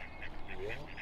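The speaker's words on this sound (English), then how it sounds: "Plenty of ducks." Ducks quack faintly in a short burst over a steady outdoor background hiss.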